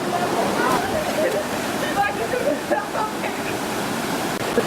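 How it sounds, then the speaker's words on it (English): A waterfall near Rishikesh, India, roars in a steady, broad rush of falling water, with a person talking faintly underneath. "now I'm at the waterfall near Rishikesh."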